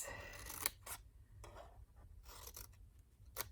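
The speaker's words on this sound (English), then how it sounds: "we're going to cut off the rectangular square formed by those intersecting score lines there" Scissors snip paper along score lines while making a mini gift bag, a handful of quick separate cuts close by, alone in a quiet room.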